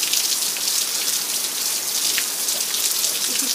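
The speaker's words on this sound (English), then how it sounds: "It's starting to rain." Steady rain pattering down, a dense continuous hiss of drops with a few louder splashes close by, no voices.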